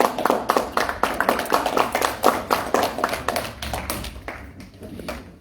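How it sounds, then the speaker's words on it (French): A handful of people clap unevenly at a municipal council meeting, the sparse, sharp claps close and moderately loud, thinning out before ending. "On peut l'applaudir"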